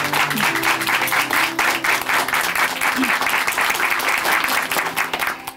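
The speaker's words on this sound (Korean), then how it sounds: "다시 한번 큰 박수 보내드릴게요." Loud, sustained applause from a church congregation at Chuncheon Hanmaeum Church, a dense wash of clapping that fills the whole stretch without pause.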